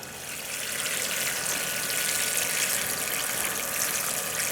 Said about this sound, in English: Just water in just like that. Peas don't need a whole lot, just give them a splash.